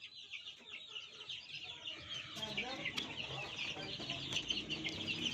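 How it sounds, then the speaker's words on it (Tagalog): Many chicks peep and chirp together in a continuous high-pitched chorus at a poultry farm, with occasional clucking from adult chickens underneath. "papakita ko po yung mga sisiw"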